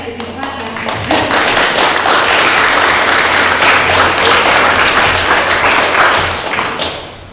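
An audience claps steadily at a Grimsby Ward 2 municipal debate, dense loud applause swelling after the first second and holding for several seconds before tapering off near the end.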